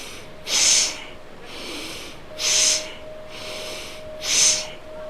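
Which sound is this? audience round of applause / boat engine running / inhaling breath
inhaling breath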